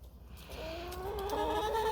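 Backyard hens, two black Australorps, a barred rock and a Brahma, cluck softly in a low, rising call that sits over a steady background rumble, with no talking.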